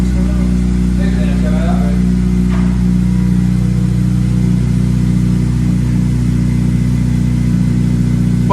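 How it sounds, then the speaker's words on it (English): Car fitted with a 3 inch Dynodaze exhaust idling loud and steady after a cold start, a deep constant drone with a faint rev, while people talk over it. "Oh, cold start."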